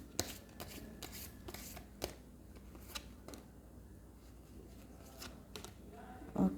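Tarot cards are shuffled and drawn at close range, with soft slaps, riffles and light taps in an irregular rhythm and no talking over them.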